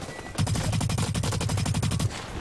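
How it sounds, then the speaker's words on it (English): Automatic gunfire in the online shooter video game Blacklight Retribution, a loud close rapid burst of evenly spaced shots lasting under two seconds, with no voices over it. "Oh, I'm getting shot from the side."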